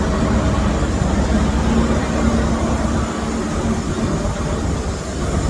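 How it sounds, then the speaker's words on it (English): A yellow Network Rail measurement train passes at Crewe, a steady broadband rumble with low engine drone and a faint tonal whine, loud and continuous throughout with a slight dip partway. "The new measurement train of Network Rail."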